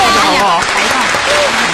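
Applause breaks out from a theatre audience at a Yue opera performance, a dense, loud burst of clapping lasting under two seconds with a voice briefly over it.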